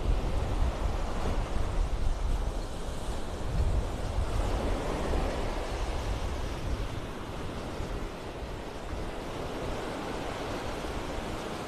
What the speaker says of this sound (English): These waves that we've been having for the past several days have definitely been taking their toll on our beach, washing sand away.